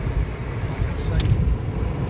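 Car interior road rumble while driving through a small southern town, a steady low drone with no pauses and a brief higher rattle midway; speech is also detected though no words come through.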